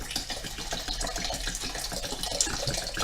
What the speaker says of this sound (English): I'm going to add a little water,